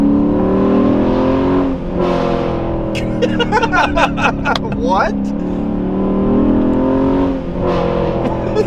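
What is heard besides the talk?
Chrysler 300 SRT8 engine revving to 5,500 RPM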